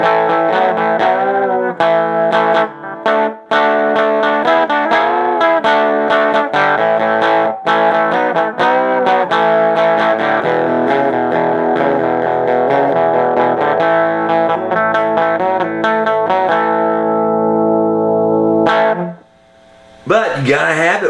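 Distorted electric guitar plays a run of sustained, buzzing notes and chords, steady and loud, before cutting off near the end.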